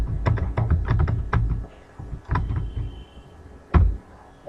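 Fingers tapping out a password on a computer keyboard: clusters of quick close clicks, then a short pause, a few more taps and one firm final keystroke, with no talking over them.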